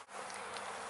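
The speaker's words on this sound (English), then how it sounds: "there are a lot of bees flying around here today" A steady insect buzz of honeybees flying close by during a bee installation, a continuous droning hum with no other sounds.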